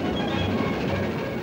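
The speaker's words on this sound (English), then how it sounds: "Silver Jubilee, drawn by the streamlined Silver Link, left King's Cross." The streamlined Silver Jubilee train, drawn by the locomotive Silver Link, makes a loud, steady rumble with a rolling mechanical texture throughout a short burst of continuous running noise.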